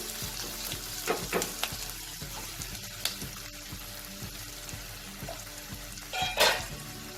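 Onions and slit green chillies frying in hot oil, a steady sizzle with scattered crackles, pops and occasional stirring clatter, close and moderately loud.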